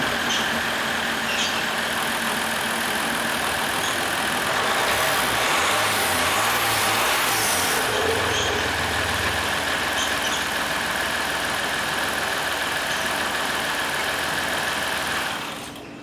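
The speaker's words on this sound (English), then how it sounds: "So now I'm gonna start the engine." The engine of a Dodge Ram Laramie pickup truck starts up and settles into a steady idle, heard close under an open hood, with a constant mechanical whine and hum until it cuts out at the end.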